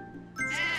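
A single sheep bleats in the puzzle video game Divide by Sheep, a short, loud, wavering call rising suddenly out of quieter game sounds.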